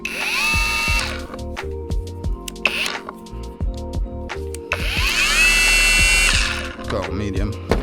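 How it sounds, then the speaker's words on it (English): A battery-powered machine polisher works over the paintwork of an Audi TT, its motor whirring in loud, uneven bursts that rise and fall as it is pressed and lifted, with short pauses between passes. "Machine polisher."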